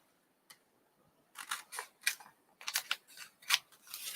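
Scissors trim paper for a craft journal, a single snip followed by a run of quick, crisp cuts in an irregular rhythm, close and fairly quiet with no talking.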